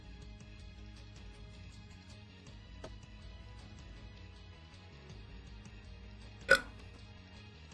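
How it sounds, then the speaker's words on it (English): A single short burp bursts out near the end, loud against an otherwise quiet backdrop of faint steady background sound. "You guys like that burp?"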